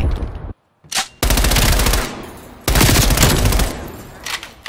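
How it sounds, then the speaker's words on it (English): Bursts of AK rifle fire in a video game, loud and close: a short volley, a brief gap, then two long sustained automatic strings separated by a pause, with a faint voice in between. "Finally, I killed that dude with a fucking AK."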